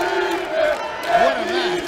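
A crowd at a jiu-jitsu championship finale in Rio de Janeiro cheers and shouts loudly, with several voices rising over a steady roar.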